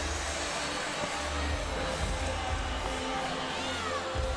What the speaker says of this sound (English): the athletes who have finished have now returned to the field, and they're cheering on the men who are still battling this 310-pound sled